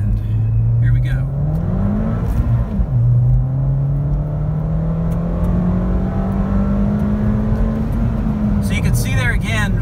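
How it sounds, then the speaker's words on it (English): A Ford Fiesta ST with an X47 setup running race gas accelerates hard in second gear on an interstate, its engine note climbing steadily in a loud, close cabin drone while the driver talks. "I'll do another second gear pull here."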